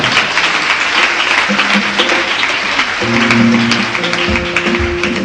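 Church congregation applauding together, a dense, loud, continuous clapping that fills the room, with some murmuring voices and tones underneath.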